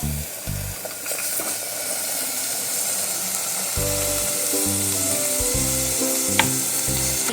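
Peas and potatoes sauté in oil and masala, giving a steady, close sizzle with stirring throughout and a soft tonal melody running underneath in the second half.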